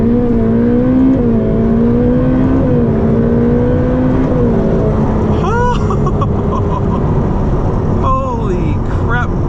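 A Ferrari F8 Tributo accelerates hard up through first, second and third gear, the engine note climbing loudly then dropping at each shift, with whoosh and whine rising near the end.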